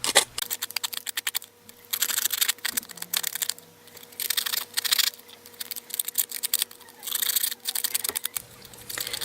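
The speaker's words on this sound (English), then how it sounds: "I'm going to use my distressor here and just go along the edges of them all" Distressing tool scraped along the edges of mixed media artist trading cards, giving quick, close, scratchy strokes in irregular bursts with short pauses, no talk.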